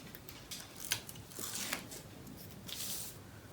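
Latte the dog eats nearby, giving soft, quiet crunching and chewing bursts scattered across a low background hiss.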